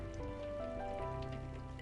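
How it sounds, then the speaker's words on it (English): Soft, steady rain patters gently on a surface in a continuous, even hush, with a faint sustained tone underneath and no voices. "only the gentle sound of rain"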